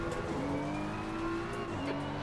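BMW M4 in a racing video game, engine note falling in steps as the car brakes and downshifts, loud and close, with a faint tyre squeal.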